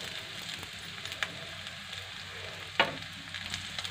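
Onions fry in a hot kadhai with a steady close sizzle and a couple of sharp stirring clatters, with no voices over it.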